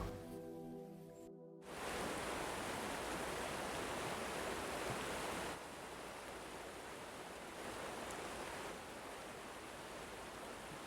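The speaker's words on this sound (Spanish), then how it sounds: "¿hay un río abajo? Sí, hay un río." A river flows in a mountain valley far below, a steady hissing rush of water that cuts in abruptly after a brief quiet moment and then holds constant, with slight shifts in level.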